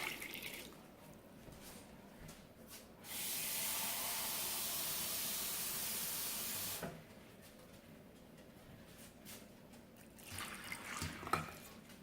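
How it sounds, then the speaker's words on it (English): A steady hissing rush of water pours into a bowl for about four seconds, then stops, followed by faint clatter and a small knock. "Now it's time to add the water."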